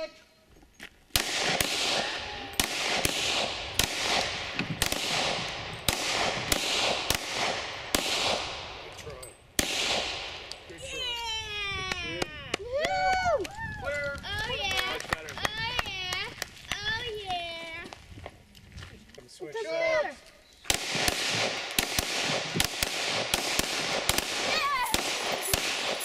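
Rapid gunshots ring out during a shooting competition, sharp loud cracks in quick bursts near the start and again at the end, with a stretch of children's voices and chatter in between.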